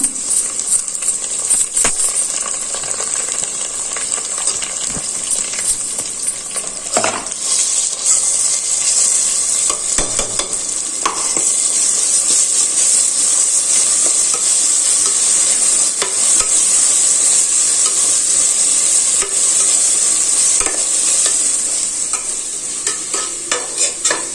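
Whole spices and ginger garlic paste frying for chicken biryani, a steady hissing sizzle broken by repeated sharp scrapes and clinks of a spoon stirring against the pot, close and loud, no voices.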